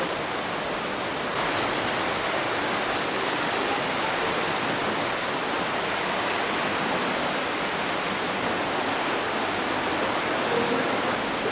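A big river rushes through an ice cave, a continuous loud wash of roaring water that fills the whole space with no pauses and no voices.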